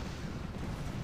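Distant siege artillery fire on a Rome: Total War battlefield, a steady low rumble of booming shots with no voices over it.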